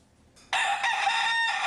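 A fighting rooster crows loudly and close by, one long sustained call that starts abruptly after a brief quiet moment.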